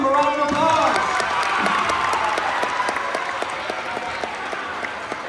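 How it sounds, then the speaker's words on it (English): A gym crowd at a high school state wrestling pep assembly breaks into loud applause with some cheering and whoops, a dense wash of clapping that stays strong before gradually thinning and quieting. "Let's give him a round of applause."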